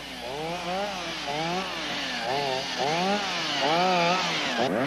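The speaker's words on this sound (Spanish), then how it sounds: "Si a pesar de esto existe el peligro de agarrotamiento de la sierra, resultará oportuno efectuar un corte oblicuo." Stihl chainsaw cutting through a tree trunk during felling, a loud, steady engine whine that rises and falls in repeated surges as the chain bites into the wood, with no voices.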